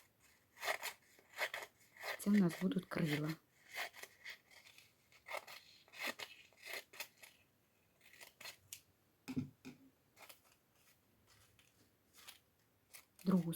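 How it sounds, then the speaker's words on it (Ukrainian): Scissors snip through paper in short, quick bursts of crisp cuts, with pauses between, while someone speaks softly at times. "цю сторону ріжемо ось так ножицями"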